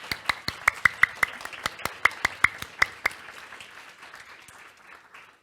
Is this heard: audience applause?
yes